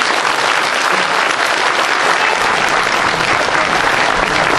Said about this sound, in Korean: 여러분 다시 한번 조갑재 편집장님에게 큰 박수 부탁드리겠습니다.